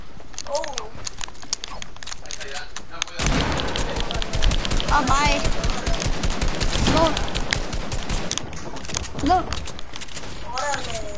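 A P90 submachine gun in a video game arena match rattles off long, rapid full-auto bursts, loud and close, starting a few seconds in after quieter game sounds, with voices talking over parts of it.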